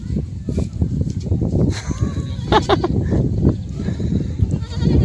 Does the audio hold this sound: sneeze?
no